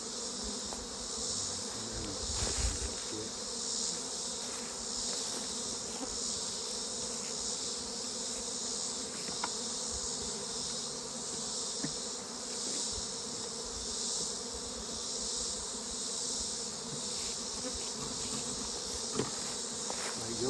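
Honey bees buzz thickly around an open hive being reduced for winter, a dense constant drone close by that carries on throughout without voices.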